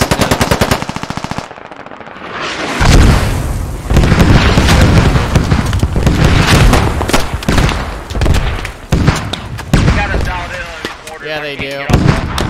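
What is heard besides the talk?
artillery fire and explosions in video game Squad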